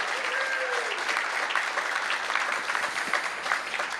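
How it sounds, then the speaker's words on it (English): Applause from the audience at a mayoral announcement event, a dense, steady burst of clapping that holds for the whole moment, fairly even in loudness and with no other sound on top. "Give Matt a big round of applause."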